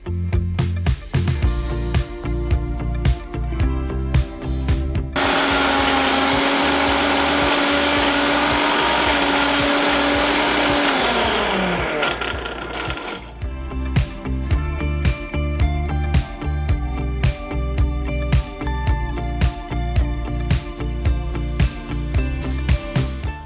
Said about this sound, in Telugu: దీన్ని మిక్సీ పట్టేద్దాం.